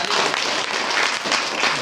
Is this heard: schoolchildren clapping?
yes